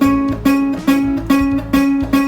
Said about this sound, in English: it can sound kind of dirty and we probably won't like that sound